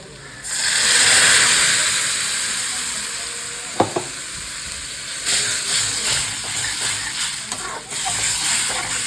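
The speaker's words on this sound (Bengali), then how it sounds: "এখানে এই যে পেঁয়াজ ভাজতে বসিয়ে দিয়েছি" Onions sizzling and frying in oil in a pan, a steady loud hiss throughout with a couple of sharp utensil clicks and scraping stirs near the middle.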